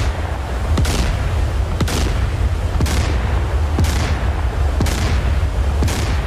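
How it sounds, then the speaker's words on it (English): Naval gunfire from an Arleigh Burke destroyer in DCS, sounding as about six heavy booming shots at a steady pace of roughly one per second, loud over a constant low rumble. "We've got a Burke firing."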